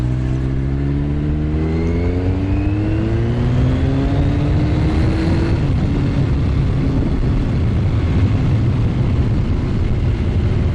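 A Kawasaki Z1000 motorcycle on the road, its engine loud and close with rising and falling revs as it accelerates through the gears, heavy wind rush over everything.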